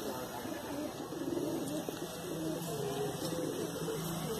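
Domestic Ahmednagar green pigeons in a loft cooing softly in the background while someone talks over them, with a steady faint hum underneath.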